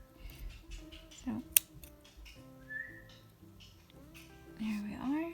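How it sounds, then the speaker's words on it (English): Scissors snip through crochet yarn in a single sharp close cut, amid faint whistling and quiet handling sounds. "I'm gonna go ahead and cut this one too."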